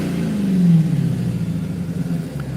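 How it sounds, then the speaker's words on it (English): Dodge Hellcat engine revving as heard from inside the cabin, a deep rumbling rise and fall of one rev that settles into a steady low idle. "One more rev session."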